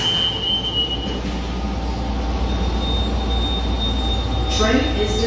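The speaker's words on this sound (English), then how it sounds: "Train is departing." A Miami Airport tram train pulls away, its steady low rumble and rolling wheel noise filling the car, with faint high tonal whines and a brief metallic squeal near the end.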